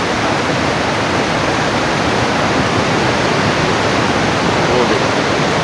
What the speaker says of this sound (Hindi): ये पानी की आवाज़ आप देखें।